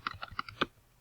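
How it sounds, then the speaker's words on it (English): Several quick keystrokes clack on a computer keyboard in an uneven rhythm, close and quiet, about five taps followed by a short pause. "start typing some words like to"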